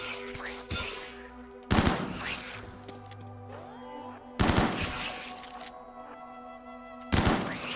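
Colonists in the RimWorld video game fire guns, three sharp loud bursts of gunfire spaced a few seconds apart, each trailing off over a humming game soundtrack.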